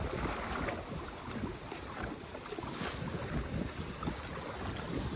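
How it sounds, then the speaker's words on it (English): Wind blows steadily across a lake during trout fishing at Caples Lake, a constant loud rushing buffet with low rumble against the microphone that never lets up. "Oh, wind, let it die down a little bit."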